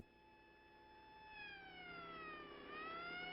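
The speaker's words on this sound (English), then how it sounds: "They just drive everywhere their sirens on." Police car sirens from an old science-fiction film wail steadily, their rising and falling tones sweeping together and growing slightly louder over a few seconds, heard alone without talk.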